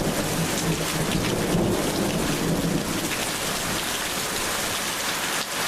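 Heavy rain pours steadily and loudly in a thunderstorm in Simuna, Lääne-Virumaa, Estonia, with deep rumbles of thunder rolling underneath throughout.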